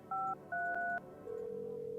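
DTMF tones of a telephone number being dialed in the video game No, I'm Not A Human: two short, clear keypad beeps in quick succession, followed by a steady dial or ringing tone, with no talking.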